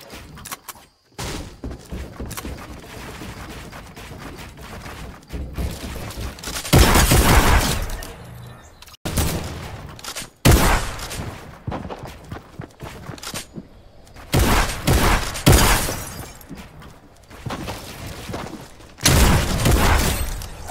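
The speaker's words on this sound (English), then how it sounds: "How did you shoot through the wall?" Bursts of video game gunfire, including shots through a wall, come in several loud volleys separated by quieter stretches of game ambience, close and punchy with no talk over them.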